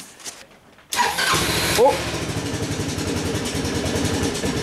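A Honda Helix CN250 scooter engine on a salvage rebuild cranks briefly and catches, then settles into a close, steady, pulsing idle. There is a short exclamation as it fires.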